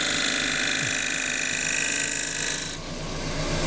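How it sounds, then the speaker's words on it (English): Shear scraper cutting a small claret ash dish on a wood lathe, a steady continuous rasping scrape that holds evenly throughout, close and fairly loud, with a brief dip near the end as the tool eases off. "I'm going to round this with the shear scraper"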